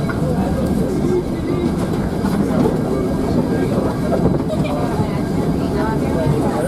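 The Mount Washington Cog Railway steam train rolling on its rails, a dense, continuous rumble and clatter close up, steady throughout, with voices underneath.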